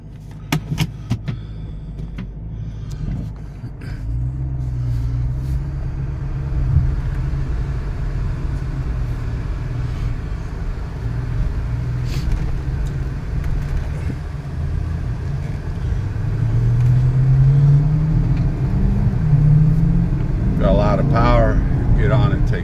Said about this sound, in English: Let's give it a quick ride.